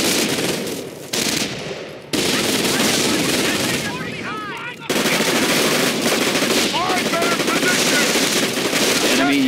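Dense, continuous automatic gunfire and bursts of shooting from the World War II strategy game Company of Heroes: Tales of Valor, loud and sustained, with brief gaps and voiced unit callouts mixed in.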